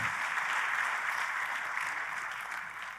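A church congregation applauds steadily and loudly at a Christian sermon gathering, sustained clapping filling the room without pause.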